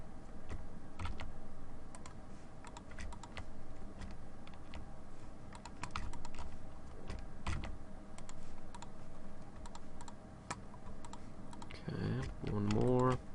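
Computer keyboard keys and mouse clicks tap out quick shortcut presses while a model hierarchy is set up in 3D software. The clicks are scattered and fairly close, over a low steady room hum.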